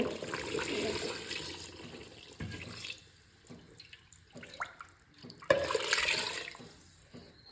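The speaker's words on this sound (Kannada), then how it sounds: "ಸೊ ನಮಗೆ ಎಷ್ಟು ಬೇಕಾಗುತ್ತೆ ಅಷ್ಟು ನೀರು ಹಾಕೋಬೇಕಾಗುತ್ತೆ" Water pours into a cooking pot of mutton head-and-trotter sambar, a splashing running stream that rises and falls in bursts, with no talk over it.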